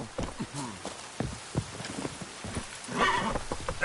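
Roach, the horse in The Witcher video game, gallops with quick, close hoofbeats in a rhythmic clip-clop, and a short whinny rises near the end.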